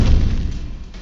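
Confringo fire-blast spell exploding in Hogwarts Legacy, a single loud, deep booming burst that decays over about a second.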